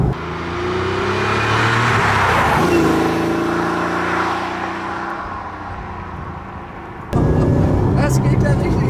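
Porsche 964 RS, a 1992 sports car, accelerating hard with a loud, steady engine roar that rises in pitch, fades slightly, then cuts to a different, closer engine tone near the end.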